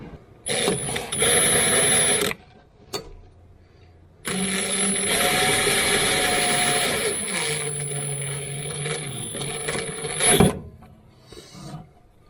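An All-American blade sharpener runs slowly, giving a close mechanical grinding whir in two spells separated by a short pause, with a brief clunk near the end.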